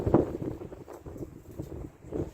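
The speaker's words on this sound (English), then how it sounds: "It's going to be really hard to compete with the wind right now because we're having a very breezy day" Breezy outdoor wind buffets the microphone in low, uneven gusts that swell and ease, with faint rustling around a garden.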